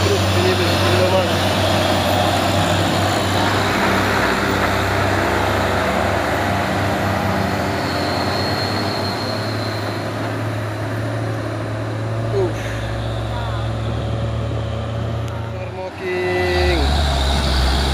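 Loaded trucks labor up a steep hill, their diesel engines droning steadily in a loud, continuous roar with a brief air-brake-like hiss near the end, as people talk over the traffic.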